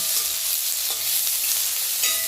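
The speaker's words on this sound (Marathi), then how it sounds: "लसूण लाल होईपर्यंत भाजून घ्यायचा आहे आपल्याला" Garlic fries in a hot pan while being stirred until it turns red, giving a steady, loud sizzle with brief scraping accents throughout and no talking.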